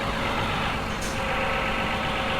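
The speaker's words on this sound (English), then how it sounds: "Engine going too fast." A Scania DHL truck engine in a driving video game runs hard at high revs, giving a loud, steady, unbroken roar with no talk over it.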